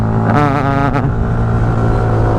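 A Honda Dio 2 90cc scooter engine runs close by, a steady loud drone with rising and falling harmonic tones as the throttle shifts, alone without talk.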